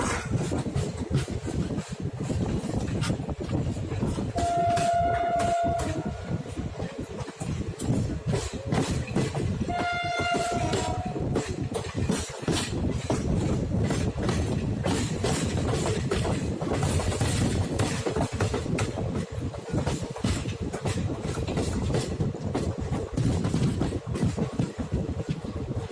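The Chetak Express passes close by on the Delhi to Ajmer line with loud, continuous rumbling and rhythmic wheel clatter, and its horn sounds twice in short blasts early on.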